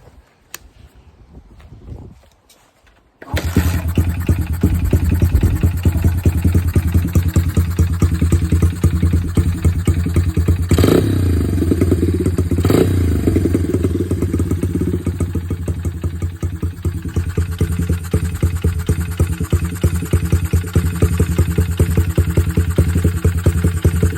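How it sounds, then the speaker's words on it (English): A 2007 Honda CRF80 dirt bike with the choke on is kick-started: a couple of quiet kicks, then the small engine fires and runs loud and steady with a rapid clattering idle, close by, with no talking. "let's kick her over, see if she fires. Maybe put the choke on."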